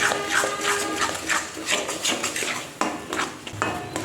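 A spoon stirs a sticky, thickening mixture in a pan, producing repeated scraping and clinking strokes of metal against cookware in an irregular rhythm, close and fairly quiet, with no talking.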